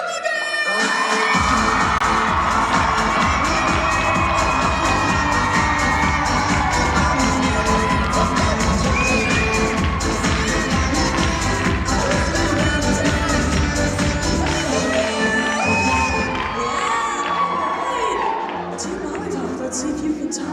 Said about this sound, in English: let's give a big cheer for Team